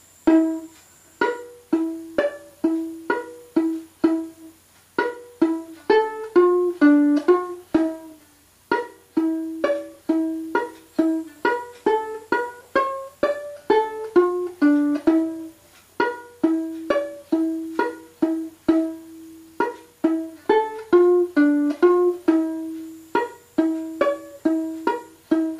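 A solo violin plays the Irish fiddle tune Drowsy Maggie at a slow tempo, a steady string of clear bowed notes in even phrases with brief gaps, moderately loud and close with no talking.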